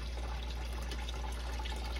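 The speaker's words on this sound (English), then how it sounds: "you're running the water too fast" Water runs steadily down a tabletop carrying shiny metallic pyrite flakes, a continuous close wash and trickle with no breaks and no voices.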